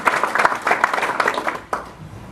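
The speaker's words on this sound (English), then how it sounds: "Let's give them a round of applause" Applause for business award winners, including a large cable company, at a morning chamber of commerce event, a dense crowd clapping steadily before tapering off with a few last claps.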